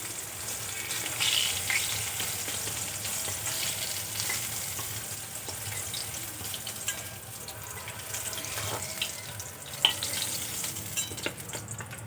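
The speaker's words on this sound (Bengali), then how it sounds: "আরও যে বাকি মাছগুলো একইভাবে ভেজে নেব।" Fish fries in oil with a steady, moderately quiet sizzle and crackle, broken now and then by light stirring and utensil clicks. There is no talk.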